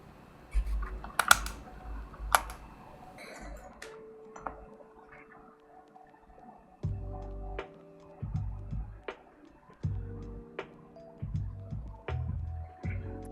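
Typing on a custom Redragon Fizz K617 keyboard fitted with Akko switches and sound dampening: sharp clicky keystrokes come in irregular bursts, close and fairly loud, with a few separate clacks between them and no talking.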